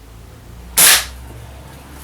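A single sharp crack as an air rifle fires a BB at a target. It is one short, loud report against a quiet background, with a brief tail after it.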